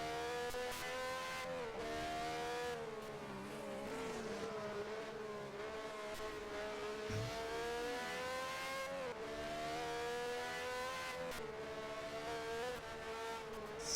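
1971 Formula 1 Matra race cars at Monaco, their high-pitched engines wailing loudly and continuously, revs rising and falling through gear changes as cars pass, with a brief tire squeal.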